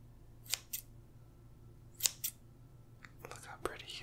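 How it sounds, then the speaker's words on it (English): Scissors snip hair close to the microphone in a whispered roleplay, with a few crisp paired snips spaced apart and softer handling sounds between them. "I really like cutting hair, so let me go ahead and cut it for you."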